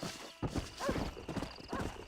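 Horse hooves clip-clopping in the game Red Dead Redemption on Nintendo Switch, a few heavy thudding steps with a brief whinny-like tone, moderately close and clear.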